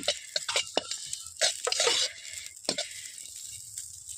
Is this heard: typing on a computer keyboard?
no